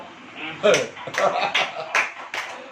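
Church congregation clapping hands at a Hindi sermon, a handful of scattered, uneven claps rising and falling over a few seconds.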